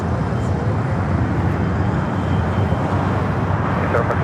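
United Boeing 787-10 Dreamliner rolling for takeoff at LAX, a dense continuous roar of jet engines filling the air at steady loudness, heard broadband and unbroken.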